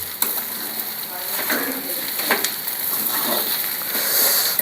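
Poha being stirred in a pan, a steady frying sizzle with scraping stir strokes, close and continuous with no talk.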